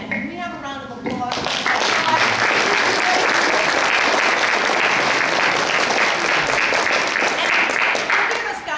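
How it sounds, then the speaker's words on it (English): An audience at a panel discussion breaks into applause that swells quickly after a short opening and holds dense and sustained for several seconds, a broad wash of many hands clapping, with brief talk just before it starts. "Can we have a round of applause?"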